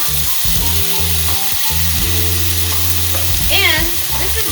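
Half a spoon of minced garlic sizzles in a hot frying pan for kimchi jjigae, a bright continuous crackle under a person speaking nearby, with a brief clink partway through.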